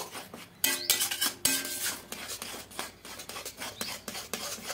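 A spoon mixes cooked semolina in a pot, giving close, irregular scraping strokes with several sharp metallic clinks against the pot, all without any talking.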